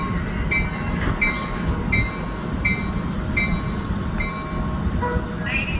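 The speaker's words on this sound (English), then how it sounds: "This is an Amtrak. Capital Corridor train 732 to Sacramento." An Amtrak Capitol Corridor train, number 732, stands at Santa Clara station. A steady heavy rumble runs under a row of evenly spaced high chime-like tones, heard up close.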